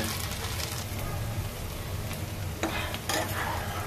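Whole cinnamon, cardamom and cloves frying in hot oil in a home kitchen give a steady close sizzle, with a few brief stirring clatters near the end.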